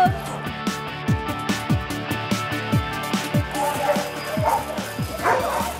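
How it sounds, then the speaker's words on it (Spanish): Many dogs at a dog shelter barking, yipping and whimpering close by in an overlapping, busy chorus of repeated short barks, with a person's excited voice mixed in. "¡Ay, muchos perritos!"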